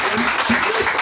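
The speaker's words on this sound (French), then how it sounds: "Acclamez pour le Seigneur Jésus." A church congregation in Nikki, northern Benin, clapping together during a consecration service, dense steady applause mixed with a few voices, close and loud across the whole moment.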